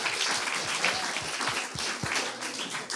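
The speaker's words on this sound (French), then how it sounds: "Vous pouvez vous applaudir, vous avez été un super public." A concert audience applauds at the end of an evening show. The clapping is dense and continuous, with scattered louder claps and a few low thumps, and it stays strong throughout.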